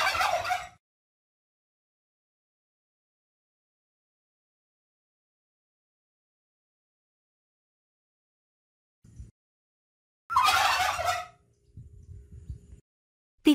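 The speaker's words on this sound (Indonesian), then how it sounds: "Ayam kalkun. Ayam kalkun berasal dari Amerika Utara." A wild turkey gobbles in two loud, rapid bursts separated by long silence, the second followed by lower clucking sounds, close and alone.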